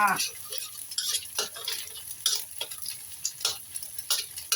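Egg being stir-fried with noodles in a pan: repeated clicking scrapes of a spatula against the pan over a soft sizzle, in uneven bursts roughly every half second, close and fairly quiet.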